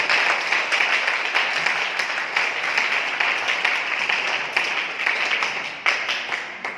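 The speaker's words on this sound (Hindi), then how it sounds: "हम जोरदार तालियों से उनका स्वागत करें।" Audience applause at a Hindi spiritual gathering welcoming people joining from around the world, a steady wash of many hands clapping that holds evenly throughout, moderately loud with no voices over it.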